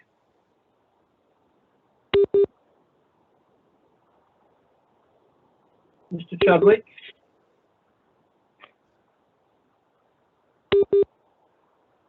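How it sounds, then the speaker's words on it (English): Short electronic double beeps sound on an online planning committee meeting call line, spaced several seconds apart, with a brief spoken phrase between them. "I think we all can hear the beeping noise."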